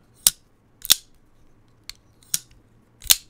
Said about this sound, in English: That closing action on those ceramic bearings, absolute guillotine.